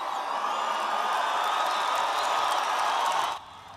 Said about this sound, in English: the crowd cheers got louder and louder